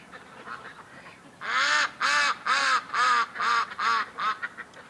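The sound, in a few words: ducks quacking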